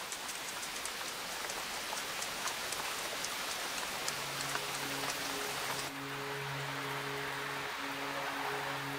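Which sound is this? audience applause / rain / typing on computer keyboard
rain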